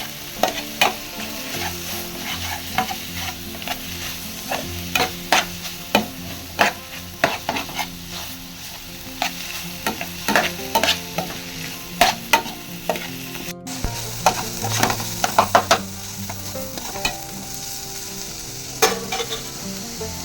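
Ground prawn mixture for prawn chops frying in a pan, a continuous sizzle broken by frequent sharp scraping stir strokes of the spoon against the pan, close and fairly loud throughout with no voices.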